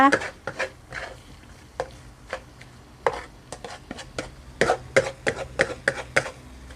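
Pork and egg are dry stir-fried in a pan over raised heat. A spatula scrapes and knocks in uneven close strokes, with faint sizzling underneath.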